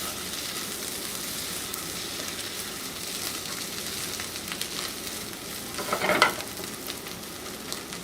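Corned beef hash crisping in butter in a pan makes a steady, moderate sizzle throughout, with a short louder scrape or stir partway through.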